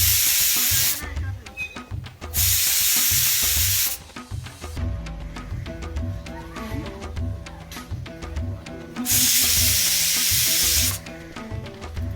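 A pressure cooker on a home stove whistles in loud, hissing bursts of steam, three long blasts separated by quieter stretches of rattling and bubbling.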